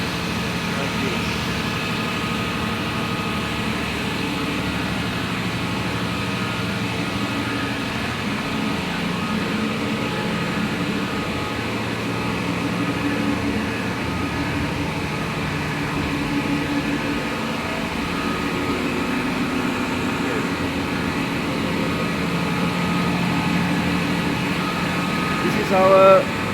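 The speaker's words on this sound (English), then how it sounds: "This is our power pack, hydraulic power pack." Hydraulic power pack for the main winch running steadily in the engine room of an 8,000 BHP ASD tug, a continuous machinery hum and drone with broadband noise and no pauses throughout.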